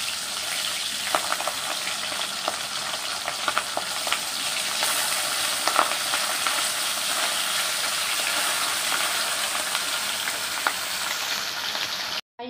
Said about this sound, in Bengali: তেল মাখিয়ে নেওয়া হয়েছে নুন হলুদের সাথে মাছে, তাও আর কি ফাটছে